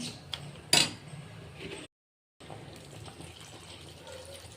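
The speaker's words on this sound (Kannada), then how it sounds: "ನಾನು ಸ್ವಲ್ಪ ನೀರು ಹಾಕ್ತೀನಿ" Water used to rinse a mixer jar is poured into a pot of mutton sambar as a soft, quiet trickle, with a sharp clink near the start and a brief silent gap midway.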